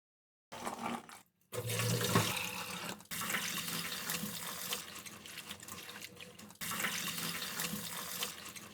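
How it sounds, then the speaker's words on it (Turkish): Cut green beans washed under running tap water in a kitchen sink, a steady splashing rush in several long stretches broken by brief pauses, with no voices. "Şimdi bunları 3-4 su boy suda yıkayacağım."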